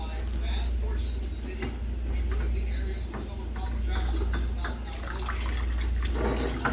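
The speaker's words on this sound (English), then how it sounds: "Drain the water out." Hot chicken broth canning water pouring and splashing out of a jar, a steady trickle with clinks and drips nearby, over a low background hum.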